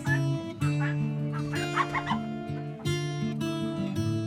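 Guinea fowl call at a chicken coop, a loud, steady run of harsh repeated cries layered over one another, with brief breaks and clucking hens close by.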